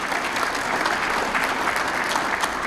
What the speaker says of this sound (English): could we please give a round of applause for Pat Morrissey